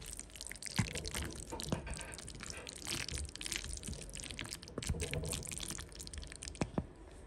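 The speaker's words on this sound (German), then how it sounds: "Findet ihr auch, dass es so lecker klingt, wenn man so in den Nudeln rumrührt?" Noodles in veggie bolognese are stirred in a pot, giving close, wet, squelching and crackling sounds that go on with a few sharper clicks and no talk.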